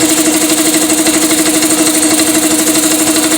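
An air compressor driven by a Vespa engine runs loud and close with a steady, rapid pulsing chug and no talk over it.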